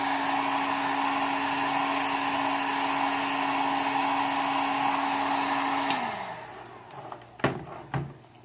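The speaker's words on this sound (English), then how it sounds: "with your heat gun, always point it away from you" A heat gun used to heat PVC pipe runs with a steady motorized whir and hum, then shuts off and winds down, followed by a few sharp knocks and handling clatter.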